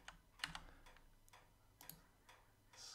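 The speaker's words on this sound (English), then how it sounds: "the clicking noise in the background is my radiator" A radiator clicks faintly in the background of a quiet room, a handful of irregular soft ticks spread over a few seconds.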